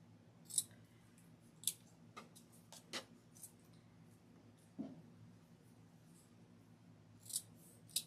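Scissors snip through flower stems for a fall pumpkin centerpiece arrangement, giving a handful of sharp, quiet cuts spaced irregularly, with soft handling clicks in between.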